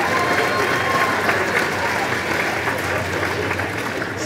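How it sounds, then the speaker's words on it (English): Audience applause at a kindergarten graduation ceremony, steady dense clapping from a crowd that fills the room throughout, with faint cheering mixed in. "So give yourselves a round of applause,"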